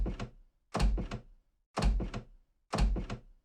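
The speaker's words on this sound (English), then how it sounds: "I can close all these doors." Several doors in an Unreal Engine 5 video game shut one after another, giving four evenly spaced heavy wooden thunks about a second apart, close and clean with no voices.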